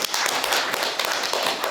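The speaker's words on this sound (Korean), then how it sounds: "우리 차관님께 큰 박수 한번 쳐주시기 바랍니다" Applause from the audience at the 52nd Korean unification culture festival award ceremony, a dense and steady patter of many hands clapping with no break for the whole stretch.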